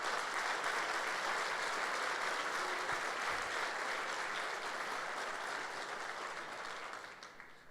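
A large church congregation applauds steadily for several seconds during a Sunday service, the clapping dense and even, slowly fading toward the end.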